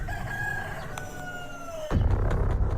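A rooster crows in a Hindi animated cartoon, one long drawn-out crow that slides downward before cutting off abruptly into louder background noise.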